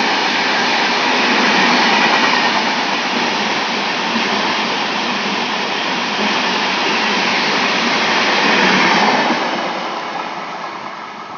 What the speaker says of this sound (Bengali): তো দেখতে পেলেন এদিকে একটা এক্সপ্রেস পাস হলো।